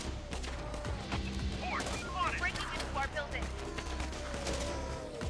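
Defense towers firing in the video game Infection Free Zone, a crackling spread of shots and bursts over a rumbling game backdrop, with a voice talking over part of it.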